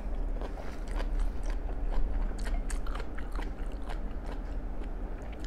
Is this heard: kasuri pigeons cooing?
no